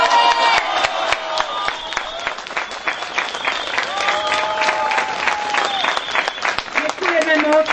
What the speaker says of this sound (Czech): pokud s tímhle souhlasíte, podpořte potleskem